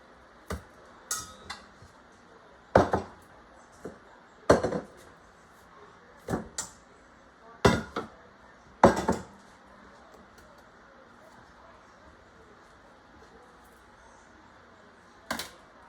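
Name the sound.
knife cutting bread into little pieces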